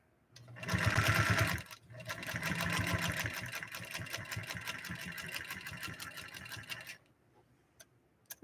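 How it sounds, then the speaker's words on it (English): A New Home Golden Machine sewing machine stitches through six layers of leather, a fast, steady mechanical chatter of repeated needle strokes running for about six seconds, loud and close, with a short burst at the start before the main run. "I think that friction wheel will bite into that balance wheel, and we should be able to sew down this quite nicely."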